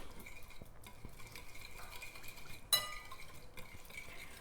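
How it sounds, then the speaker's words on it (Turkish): Chicken marinade with freshly grated garlic being stirred in a bowl, a soft steady scraping and swishing with light clinks of the utensil and one sharper knock near the middle. "Evet şimdi güzelce karıştırıyoruz."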